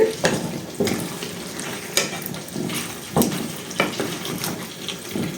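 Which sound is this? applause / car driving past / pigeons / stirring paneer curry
stirring paneer curry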